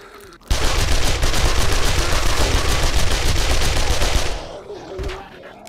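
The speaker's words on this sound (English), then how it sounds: "I don't care, I will magazine dump into you as long as it takes." Sustained submachine gun fire from an SMG emptying a full magazine in the 7 Days to Die game, a loud rapid burst of shots lasting about four seconds before cutting off.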